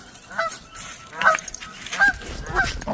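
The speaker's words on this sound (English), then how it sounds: "They're probably, obviously the Canadian geese, so they're down here in PA on this nice little pond." Canada geese honk on a small pond in Pennsylvania, several separate nasal calls spaced over a few seconds, moderately near, with no talk.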